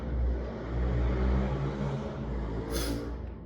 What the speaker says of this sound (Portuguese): Passou uma moto aqui.